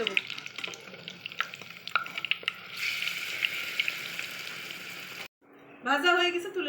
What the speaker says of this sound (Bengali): বেটারে ডুবিয়ে তেলের মধ্যে দিয়ে দেবো।